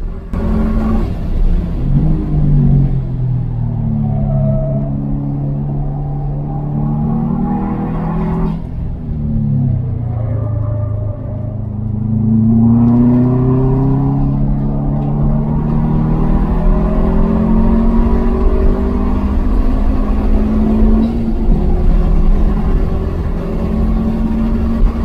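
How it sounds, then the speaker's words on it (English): A Subaru STI boxer engine accelerates steadily on an Autobahn track day, its rumbling note climbing through the revs over a long continuous run with brief dips between gears. "let's listen to that boxer engine"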